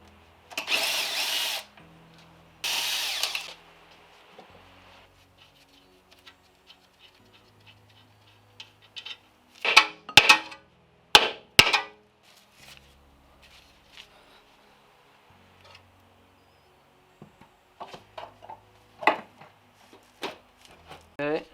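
Power tools work on removing a wheel from a Honda Civic on axle stands: two short, loud buzzing bursts open the stretch, followed by sharp metallic clinks and clanks of parts and tools in a quiet garage.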